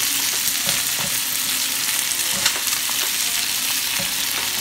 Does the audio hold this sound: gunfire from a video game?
no